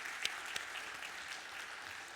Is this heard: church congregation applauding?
yes